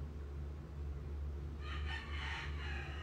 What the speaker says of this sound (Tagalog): Curty, ano ang gagawin natin sa manok na yun?